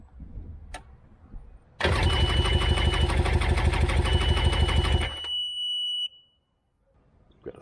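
A 2002 Sea-Doo GTX DI personal watercraft engine cranks and fires loudly for about three seconds, then settles into a rough idle with a high whine before cutting out, leaving near silence.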